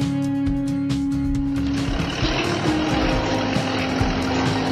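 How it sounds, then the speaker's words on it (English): A dump truck engine rumbles steadily and loudly, a heavy diesel-like drone with mechanical clatter running continuously from start to finish, no voices. "Eight, the dump truck"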